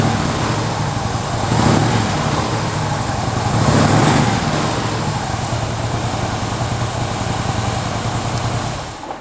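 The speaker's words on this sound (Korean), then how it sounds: "엔진에서도 잡소리 없이 상당히 깔끔한 소리 내고 있고요" A Harley-Davidson Street Bob with stock muffler idles steadily up close, a low rumbling throb with a couple of brief swells in revving, no voices.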